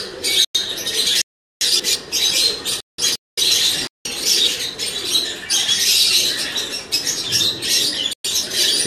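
Sher Baloch pigeons cooing and chirping close by, a busy, steady stream of bird calls broken by a few brief silences.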